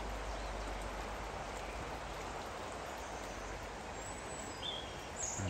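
Water flowing past rocks outdoors, a dense, continuous rushing wash that holds steady throughout, with faint bird calls above it.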